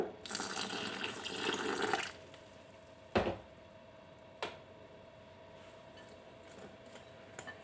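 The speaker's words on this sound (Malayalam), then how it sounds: "ആവശ്യത്തിന് വെള്ളം ഒഴിച്ച് കൊടുക്കാം" Water pours in a steady wet stream into rava batter for about two seconds, followed by a few soft isolated clinks and taps in a quiet kitchen.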